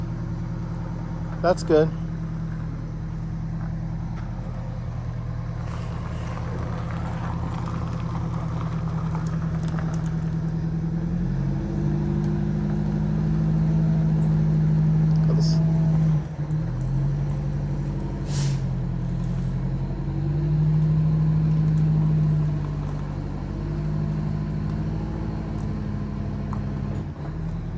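A Prevost bus idles and pulls forward with a steady low engine drone that rises slightly as it moves, under calm talk from people nearby and a few brief knocks.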